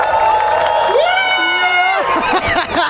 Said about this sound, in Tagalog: Medyo may hiyaw na palakpak.